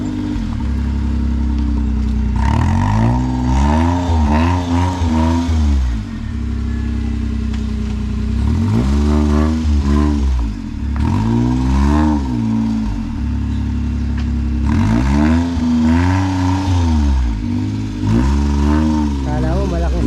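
A Suzuki Alto small car engine with a cut exhaust revs hard in repeated bursts with a raspy, loud exhaust note, rising and falling pitch, close by, with brief idle gaps between pulls.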